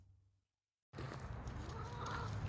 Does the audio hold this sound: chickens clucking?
yes